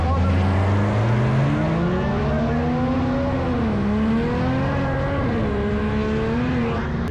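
A race car's engine at a test and tune day revs loudly and continuously nearby, its pitch climbing, dipping and rising again, with a voice faintly underneath.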